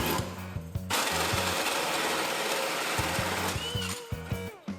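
Power drill boring a hole in metal during work on a Ford F1 truck, heard as a close, buzzing, stuttering drone in short bursts with brief pauses, no voices.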